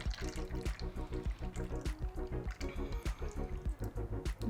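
Homemade oat milk glugs through a funnel into a container, pouring in a rapid, bubbling, pulsing rhythm at close range.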